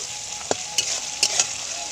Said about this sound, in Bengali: পেঁয়াজগুলো ভালোভাবে ভেজে নিলাম